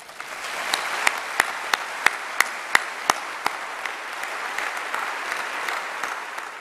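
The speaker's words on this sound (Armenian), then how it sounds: "առաջարկում եմ ծափահարել մեծ վարպետին" An audience applauds a great master who has died, at a large ceremonial event. The applause is steady and sustained, with a series of sharp, regularly spaced claps standing out in the first half.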